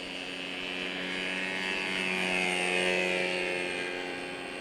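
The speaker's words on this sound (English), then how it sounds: "Mike, we're clear to taxi." A NASA DROID drone aircraft's engine drones while taxiing, a steady high whine and buzz that swells slightly louder, then eases, heard at moderate distance with no talk.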